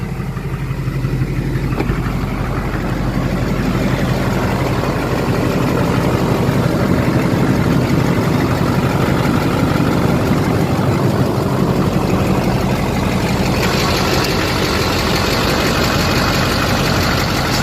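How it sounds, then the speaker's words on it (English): An LBZ Duramax diesel pickup fitted with an HSP turbo mouthpiece idles steadily nearby, a loud, continuous low rumble with a slight shift in tone partway through and no talking. "Just gonna let it idle a little bit."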